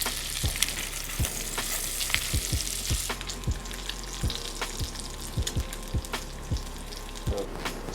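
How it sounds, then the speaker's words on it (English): Bacon fries in a pan as its fat renders, a steady close sizzle and crackle broken by frequent sharp pops and spits, with no talking. "We just want to render the rest of that fat, let the bacon start to get nice and crispy."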